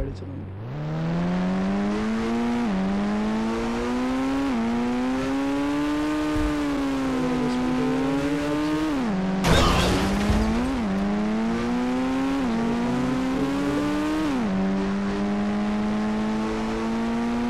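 Game engine of a car in the mobile driving game Indian Bikes Driving 3D, a synthetic tone that rises and falls through repeated gear changes, with a brief skid or crash burst midway, loud and continuous.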